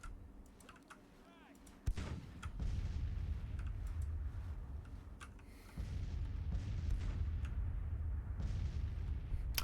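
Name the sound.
cannon artillery fire in Grand Tactician: The Civil War video game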